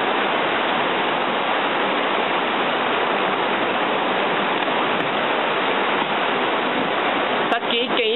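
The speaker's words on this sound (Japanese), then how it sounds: "家で津波撮ってます。" Floodwater from the 2011 Japan tsunami surges past a house in a loud, unbroken roar of rushing water, with a faint voice briefly audible near the end.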